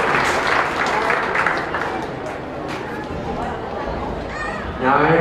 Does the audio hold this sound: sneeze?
no